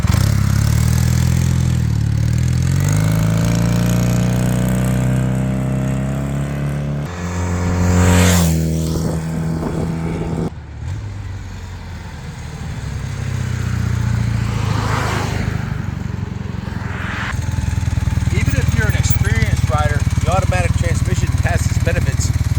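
A Honda CM400A Hondamatic motorcycle, an original low-mileage restored bike, is being ridden. Its mid-pitched engine hums loudly and steadily, rising and falling as it accelerates and eases off, with brief clattering bursts mixed in.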